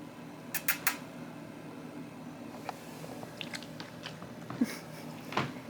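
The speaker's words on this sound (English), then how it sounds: "He's just gonna chew his bone loudly in the background" A dog gnaws and chews on a bone, producing faint irregular crunching and biting sounds with occasional louder clicks against a quiet indoor background.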